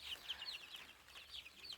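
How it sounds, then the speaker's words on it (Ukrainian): Faint, high chirping and cheeping from young chickens, overlapping in quick bursts against a quiet outdoor background. "Курчата щось сваряться"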